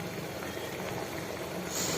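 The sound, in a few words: vegetable soup boiling in cauliflower cooking water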